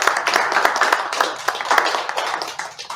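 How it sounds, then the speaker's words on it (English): An audience claps for a speaker at a talk on Anishinaabe teachings, with many individual hand claps audible as quick, uneven bursts in a lively but modest round of applause. "Let's give him another round of applause."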